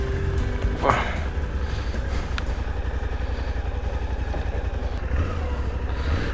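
A brand-new Suzuki V-Strom 800DE motorcycle idles smoothly up close with a steady, even engine drone. A brief knock sounds near the start.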